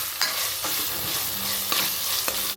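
Onions, chilli and ginger-garlic paste frying in a pan for mutton curry, with a loud continuous sizzle and several sharp spatula scrapes and knocks against the pan.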